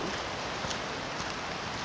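Rain falls in Lauterbrunnen, Switzerland, as a dense, even hiss of steady outdoor downpour, alone with no voices.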